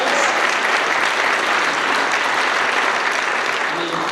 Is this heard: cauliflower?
no